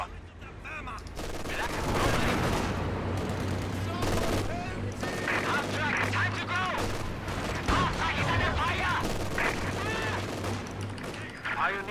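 Dense battlefield gunfire from Company of Heroes 2, with a half-track in the fight: rapid machine-gun bursts and rifle shots in overlapping volleys, loud and continuous over a low engine drone, with game voice lines mixed in.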